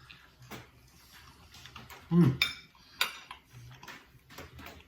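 A fork clinks against a plate while taking a bite of Salisbury steak, with a few light taps and scrapes under quiet talk.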